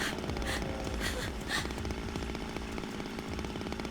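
Chainsaw running in the video game Zero Escape, a steady loud buzzing drone with rhythmic chugging pulses throughout, mixed with other game sounds.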